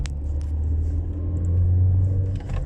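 An Opel Astra J car accelerating gently from inside, a steady low engine rumble that swells briefly as it revs, close and alone with no talk.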